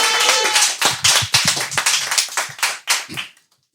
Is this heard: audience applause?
yes